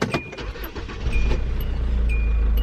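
Inside a SsangYong Rexton, short high warning beeps chime repeatedly while the engine cranks and catches, settling into a steady low idle that grows louder and continuous.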